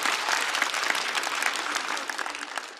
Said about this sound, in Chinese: 再次掌声送给孙主